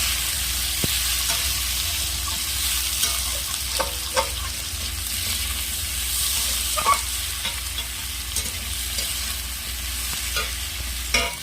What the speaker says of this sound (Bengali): কড়াইতে দেবো গোটা জিরে, 5 ফোড়ন, লঙ্কা চেরা, পেঁয়াজ কুচনো,